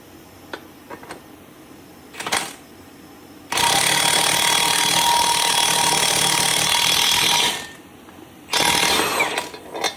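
An impact wrench tightens a bolt on a 2011 Camaro SS rear axle. Two short bursts come first, then one long loud hammering run lasting about four seconds, and a final burst after a brief pause, with no voices.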